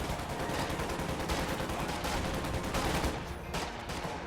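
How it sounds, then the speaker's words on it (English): Flak half-track gunfire in a wartime strategy game rattles in a dense, continuous burst of rapid shots that stays loud and close throughout, thinning slightly toward the end. "Flak half-track firing on this stuff."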